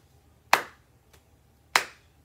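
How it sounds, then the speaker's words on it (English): Two sharp hand claps, roughly a second and a quarter apart, close and clear in a quiet room during a children's music lesson, with a faint tap between them. "Now we're going to add some claps like this."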